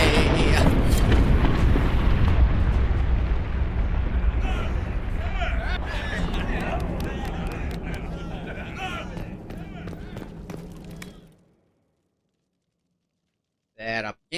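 Bomb blasts in Dragon Age: Inquisition open with a loud booming rumble that gradually decays into scattered debris and crackle before falling silent, followed by a brief burst of sound at the end.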